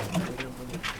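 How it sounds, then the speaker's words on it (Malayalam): Domestic pigeons coo near a coop in Saudi Arabia, a few soft, low throaty calls across a second with faint background voices. "ഒക്കെ നാടൻ പ്രാവാണ് അധികം."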